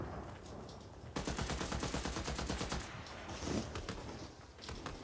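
An SMG and a shotgun fire in Fortnite: after a quieter second, a dense, rapid run of shots rattles on for about two seconds, then scattered shots follow.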